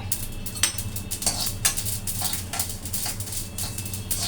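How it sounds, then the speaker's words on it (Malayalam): Sesame seeds dry-roasting in a pan on a low gas flame, with a spatula scraping and clinking against the metal in quick irregular strokes and a faint crackle beneath. "എന്നിട്ട് നമ്മുടെ എള്ള് നമുക്ക് ഇങ്ങോട്ടിട്ട് വറക്കാം"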